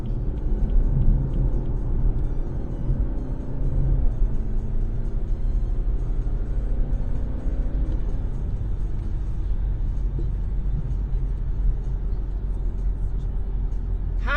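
A car joining a motorway slowly at under 40 mph, heard from inside as a steady low engine and road rumble with a faint brief squeal near the end.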